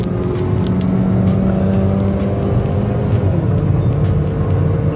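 A Ford Fiesta pulls hard after shifting into third of its six gears on a toll road, its engine note loud, steady and continuous from inside the cabin, with no talking.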